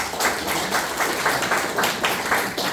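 A church congregation at a worship service applauds together, a fairly close, steady patter of many hands clapping in loose rhythmic pulses for a few seconds with no talking.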